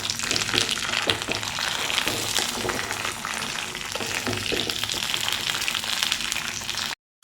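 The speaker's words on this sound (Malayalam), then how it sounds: "എണ്ണയിൽ നല്ലതുപോലെ ഒന്ന് വറുത്തെടുക്കാം." Peanuts fry in hot oil for a spiced masala snack, giving a close, steady sizzle dotted with crackles and pops that carries on without talk until it cuts off abruptly.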